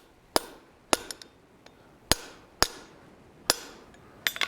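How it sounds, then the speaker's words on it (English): A hammer strikes a rivet on blacksmith forging tongs set in a rivet heading die, giving sharp metallic cracks in an uneven sequence of about seven blows, close and clear with nothing else heard. "We're going to put that into our rivet heading die, and we're going to give it a couple good cracks."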